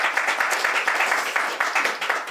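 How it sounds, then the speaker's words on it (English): An audience at a climate event claps steadily throughout, a dense, even patter of many hands at moderate volume with no voices over it. "Let's clap for them."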